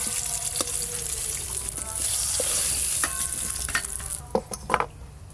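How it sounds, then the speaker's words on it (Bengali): Capsicum fries lightly in a pan with a steady, close hiss of sizzling oil, and a few scraping stirs and clinks come near the end. "ক্যাপসিকাম গুলো হালকা করে ভেজে নিয়েছি, তুলে নেবো।"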